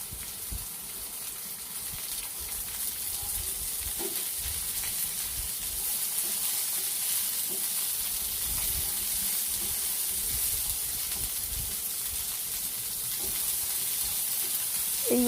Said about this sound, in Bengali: এবার বিনস কুচিগুলো দিয়ে দিচ্ছি। এগুলো আমি হালকা হালকা করে সব